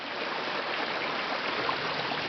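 A small field stream crossing a hiking trail near Międzygórze flows with a steady, even rushing hiss, close and continuous, without voices.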